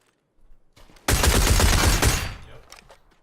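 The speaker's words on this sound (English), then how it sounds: "This thing owns hip fire." A dense burst of rapid SLR rifle hip-fire shots with a suppressor in PUBG, loud and close for about a second, followed by fading echoes and a few quieter sounds.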